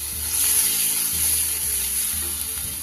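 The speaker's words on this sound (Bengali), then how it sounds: "আমার তেল ছেড়ে দিয়েছে একদম ভাজা ভাজা হয়ে গেছে মশলাটা" Masala spices fry in oil for a bhola fish curry, making a steady, close sizzling hiss with a low hum underneath and no talk.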